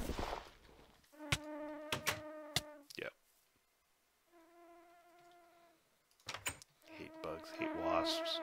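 Wasps in a modded Minecraft game make synthetic, whiny buzzing in several separate bursts with gaps between them, punctuated by sharp game hit sounds, with no voices.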